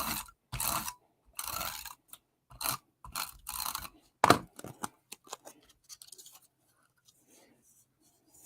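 Strips of tape being pulled and pressed onto the back of a craft piece, giving a string of close crackly tearing and rubbing bursts that thin out into faint scattered taps and then quiet.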